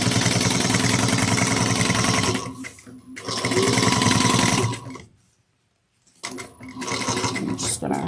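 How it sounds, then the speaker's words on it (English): Sewing machine topstitching lining fabric for a fold-over cross-body bag, running in loud steady bursts of rapid needle strokes, pausing briefly, then stopping fully before starting up again. "we're going to top stitch on the lining fabric again, 1/8 of an inch"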